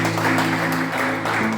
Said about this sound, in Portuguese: pode bater palmas bem alegres para Jesus